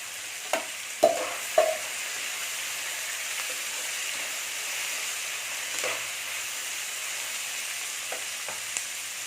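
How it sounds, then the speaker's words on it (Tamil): Tomatoes with salt and a handful of curry leaves sauté in a pan for Mughlai chicken, giving a steady frying sizzle throughout with a few sharp spatula clinks near the start. "கொஞ்சமாக உப்பு போட்டு வதக்கிக்கலாம்."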